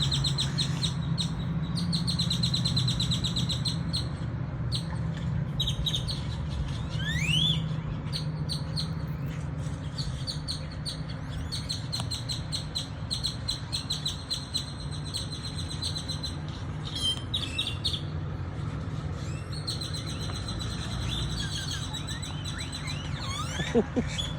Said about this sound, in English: You want to see these birds?